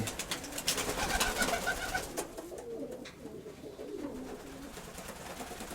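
Pigeons coo near the coop in soft, repeated calls over a few seconds, moderately close and quiet, with no talk over them.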